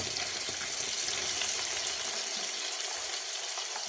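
Sliced onion tipped into hot oil for veg pulav with biryani masala gives a soft, steady sizzle and hiss close by, fairly quiet and unbroken, with no talking.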